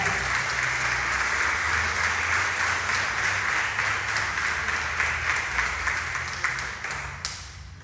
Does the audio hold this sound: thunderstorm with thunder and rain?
no